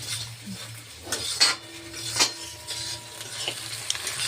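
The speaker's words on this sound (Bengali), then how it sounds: "আমি এখানে কড়াইয়ে তেল বসিয়ে মশলাটা কষে নিচ্ছি একটু ভালো করে" Spice paste fries in oil in a kadai for a Bengali duck curry, giving a steady low sizzle with occasional spoon scrapes and clinks against the metal pan, close by and moderately quiet.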